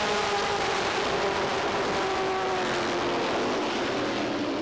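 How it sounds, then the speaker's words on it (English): Pro stock race cars roar around Lee USA Speedway at a 1990 race, a dense, steady engine drone with a sweeping pitch that stays loud and continuous throughout. "And the pro stocks are underway."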